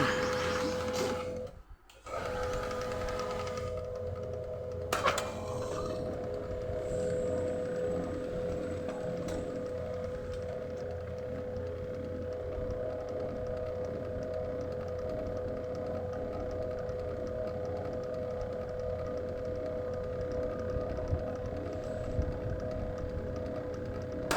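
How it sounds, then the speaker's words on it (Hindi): An HP LaserJet 1020 Plus printer with a weak heating sensor and a slow-printing fault whirs after a short mechanical clatter at the start, then holds a long, steady whine at moderate volume. "चलिए हम देखते हैं हमारा प्रिंटर इसको इनिशियलाइज करके कंटिन्यू प्रिंटिंग करता है कि नहीं करता।"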